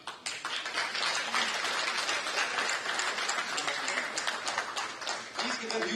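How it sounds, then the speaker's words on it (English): Sustained audience applause at a university convocation ceremony, steady dense clapping filling the hall at moderate volume with a voice faintly underneath. "Please give them a huge round of applause to applaud their achievements."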